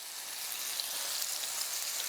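Pieces of venison frying in a very hot pan, giving a steady, even sizzle with faint crackles throughout, close and continuous with no talking.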